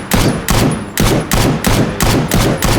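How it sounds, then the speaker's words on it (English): Rapid weapon fire in STALKER Anomaly, six loud, evenly spaced shots about half a second apart, each with a sharp crack and short ringing tail, close and alone without voices. "when you shoot a weapon, it will reset the animation"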